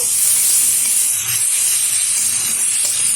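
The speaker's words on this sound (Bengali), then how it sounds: "এবার একটু নাড়াচাড়া করে নেব।" Spices frying with coriander powder in a pan give off a loud, continuous hissing sizzle close by, steady for a few seconds with no talking.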